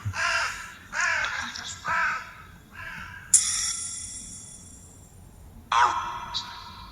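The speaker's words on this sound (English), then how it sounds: "That bird made me jump." A crow caws repeatedly in a built-up area, a series of harsh, loud calls in uneven rhythm, with a couple of longer, higher squawks later on.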